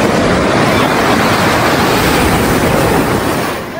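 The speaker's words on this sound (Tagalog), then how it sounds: "May alon!" Loud, continuous roar of ocean surf breaking on the shore during shore casting for fish, a dense, broadband wash close by that eases slightly at the end.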